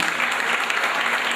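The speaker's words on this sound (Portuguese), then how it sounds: "vamos agradecer a Deus por uma linda salva de palmas, meus irmãos." A church congregation at a wedding gives a short, dense round of hand clapping, even and continuous throughout.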